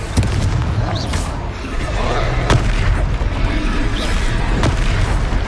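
A fiery Confringo spell blast in the Hogwarts Legacy wizarding game, several booming bursts and sharp pops landing over a dense, rumbling battle din, with a voice shouting the spell.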